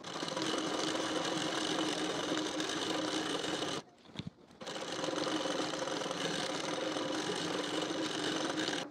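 An electric sewing machine stitches a sleeve onto the shoulder of a 34-size elitecut blouse, running steadily and evenly, then stopping briefly halfway before starting again with the same continuous whir.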